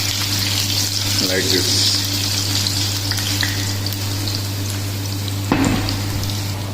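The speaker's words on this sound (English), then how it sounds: "And here also we have to saute this potato" Potatoes sauté in a pan for Indian-style dum aloo, a steady sizzling hiss running throughout with a few brief clatters from the utensil, while a voice speaks over it.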